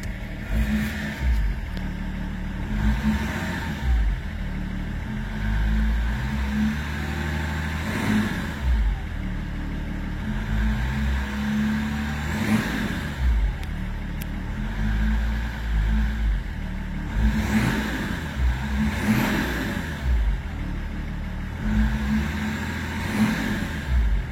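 A BMW 330d E46 diesel is revved repeatedly inside a garage, several sharp throttle blips rising above a steady clattering idle, close and loud with no talking.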